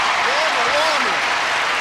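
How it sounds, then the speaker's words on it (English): Audience applause welcoming the stars of a show, a steady wash of clapping with a voice speaking over it. "Little applause here."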